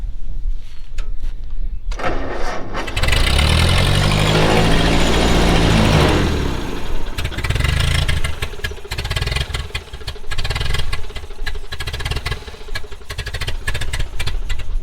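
An old Ford tractor engine with fuel problems and a dirty carburetor starts and runs close by, a loud rough chugging idle with uneven pulses and rattles, mostly alone with little talk.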